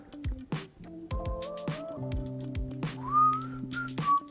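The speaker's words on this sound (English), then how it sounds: "No whistling on stream." A person whistles a short melodic tune indoors, gliding up to long high notes, fairly loud and close, mixed with other tonal sounds.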